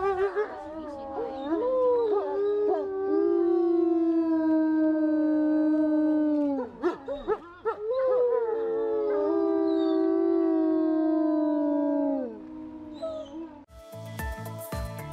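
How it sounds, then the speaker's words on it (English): A long, sustained howl from dogs in Alaska, rising and falling in pitch with a brief break midway, fairly close and carrying steadily before fading out. "you hear that howling, you kind of think it's just for you"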